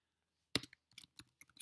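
Keys tapped on a computer keyboard while entering data into a graph table in Keynote, a sharp first press followed by a quick run of light, irregular clicks, close and alone.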